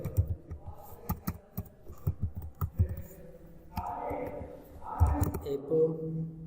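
Fingers typing PHP code on a computer keyboard, with quick irregular clicks close by, followed by soft speech near the end.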